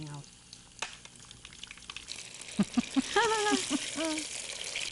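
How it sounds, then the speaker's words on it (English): Potatoes browning in very hot oil for Bengali street food, a moderate sizzle with stirring clatter and scattered bumps, while voices talk partway through. "So you just fry it like everything is cooked, so you just need to brown it basically"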